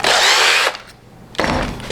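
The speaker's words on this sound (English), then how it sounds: "I'm going to go ahead and drill my holes for these pegs to go in" A power drill whines loudly up close, boring peg holes into wood, stops briefly, then bites in again for a second burst.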